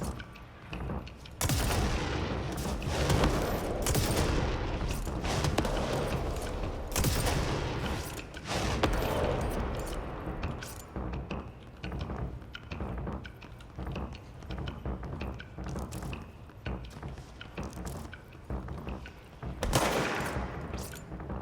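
Gunfire in the video game Control rattles through repeated bursts and rapid volleys, loud and dense over roughly twenty seconds, with short gaps between firing spells.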